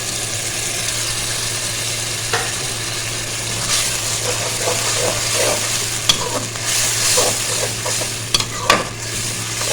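A ground paste of one tomato and four green chilies sizzles in a pan while cooking mustard greens saag, with steady frying hiss and several sharp scraping stirs of a spoon building toward the end.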